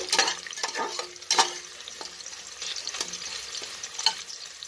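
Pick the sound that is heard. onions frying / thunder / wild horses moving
onions frying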